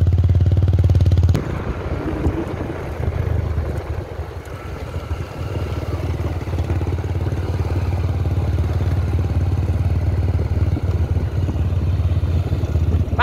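A motorcycle engine idles, then opens up and drones steadily as it accelerates with a learner rider, a close, continuous mid-pitched buzz with slight clatter and no voices over it.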